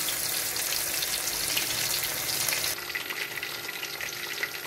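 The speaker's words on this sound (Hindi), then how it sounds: "उसके बाद फिर इन दोनों को दोबारा एक एक दफ़ा फ्राई करेंगे।" Fish pieces frying in hot oil for a spicy Lahori-style fry, a loud, continuous crackling sizzle that stays close and dense throughout, easing slightly partway through.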